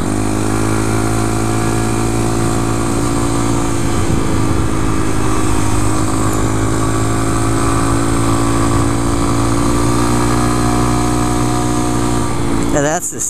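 A 2014 Honda Grom motorcycle engine drones steadily at high revs, loud and close throughout, with no clear talk over it.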